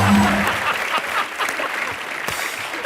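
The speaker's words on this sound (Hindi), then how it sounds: "ठोको तालियां" A TV comedy-show studio audience claps, a burst of lively applause that fades slightly but continues across the few seconds.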